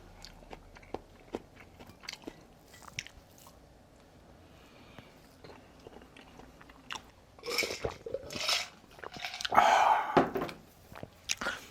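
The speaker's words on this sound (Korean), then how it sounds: "이렇게 마지막 한입" Someone eats the last bite of gamjatang pork bone soup, with close, soft chewing and biting that builds into louder wet crunches near the end.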